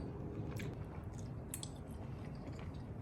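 Someone chews salted grass-finished ribeye steak close to the mic, with soft wet mastication and a few faint crunches from the salt over steady low background noise.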